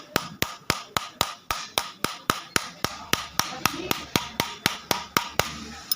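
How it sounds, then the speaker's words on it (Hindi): Steady metal-on-metal hammer blows drive a drill bit against the needle bar of a Siruba 747 overlock sewing machine, about twenty sharp, evenly spaced strikes at close range with no talking. "तो ये ऐसे हम रख के चोट मार दें।"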